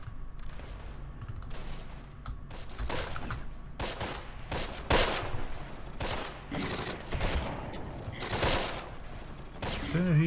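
Soldiers firing rifles and machine guns in the war game Close Combat, irregular bursts of sharp shots and volleys at varying distances, some louder cracks standing out.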